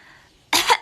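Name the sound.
one-year-old toddler imitating a fake cough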